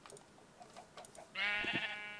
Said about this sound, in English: I can breed the sheep.